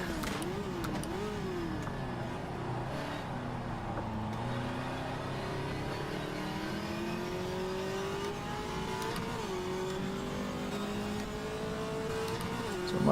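A Lada VFTS race car in rFactor 2 at Tsukuba drones loudly and steadily, its engine pitch climbing through gears with brief dips at shifts, close and continuous with no talk.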